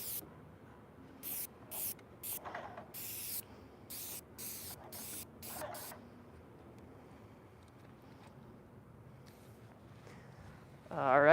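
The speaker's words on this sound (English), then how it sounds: "Make sure our nozzle's spraying correctly." Nozzle of a spray setup used while building a desk gives a series of short, sharp hissing bursts, about ten quick sprays close by in the first six seconds, then quiet room tone and a louder rising noise at the end.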